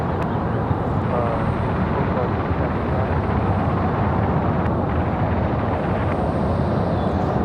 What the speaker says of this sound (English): Got an American 737 on the move